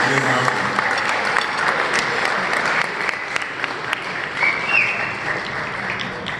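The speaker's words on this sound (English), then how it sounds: "One more round of applause" Alumni dinner audience applauds in another round of clapping, a steady, fairly loud wash of claps lasting several seconds with faint voices mixed in.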